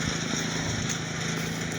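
A lawn mower cutting grass in fall, running as a steady, continuous engine drone with no pauses and no voices.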